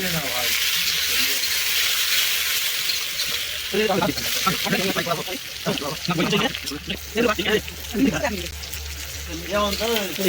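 Onions sizzle as they fry in a pot of oil during picnic cooking, a steady close crackle that continues while a person talks over it for most of the stretch.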